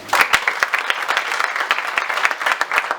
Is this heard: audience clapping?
yes